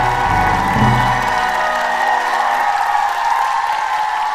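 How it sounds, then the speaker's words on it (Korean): A church congregation applauds and cheers during a New Year blessing revival service, a dense, loud wash of clapping and crowd noise that carries on steadily, with tonal sound at the start. "박수 한번 해요."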